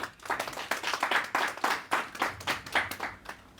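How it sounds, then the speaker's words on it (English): A company launch and networking event audience applauds steadily for a few seconds, a dense and fairly close burst of many hands that rises and falls in waves. "let's give ourselves a hand of applause."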